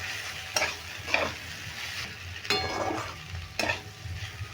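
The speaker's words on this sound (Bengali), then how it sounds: "এইভাবে নেড়ে নেড়ে আমি দুদিনের মতো ভেজে নিচ্ছি" Papaya fries in a pan while a spatula stirs it in four or five distinct scraping strokes over a soft, continuous sizzle, heard up close with no voices.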